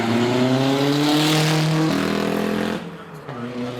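A 1996 Toyota RAV4 GT4 race car accelerates hard up a hillclimb course, its engine revving loud and close through rising gear pulls, then easing off as it moves away.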